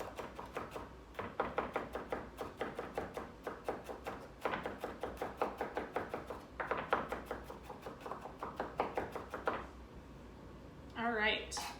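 A knife chops and minces vegetables on a cutting board for a two bean vegetable chili, giving fast, even taps in several quick bursts with short pauses. A brief voice comes in at the end.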